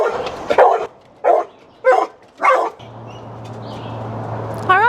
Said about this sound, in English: a dog's barking